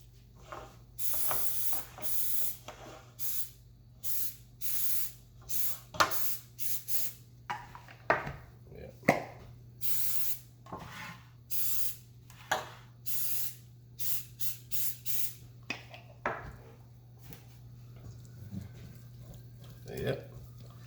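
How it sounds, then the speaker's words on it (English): Short bursts of pan spray from an aerosol can hiss in an irregular series while baking Jamaican sweet potato pudding, close and crisp over a steady low kitchen hum. "Now I'm gonna put pan spray."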